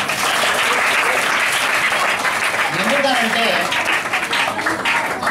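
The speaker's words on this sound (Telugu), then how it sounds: "మేడం మీ పిల్లలు కూడా చప్పట్లు పుడుతున్నారు మేడం" Audience members and schoolchildren clap together at a teacher's retirement function, producing a dense, steady roar of applause that lasts throughout while someone speaks over it.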